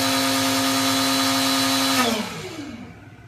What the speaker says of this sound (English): I'm going to click spindle, turn spindle on.